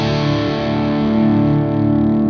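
Electric guitar played through a Radial Twin City pedal switched to a distorted channel, giving a thick, sustained overdriven tone that rings steadily and loud with no talking.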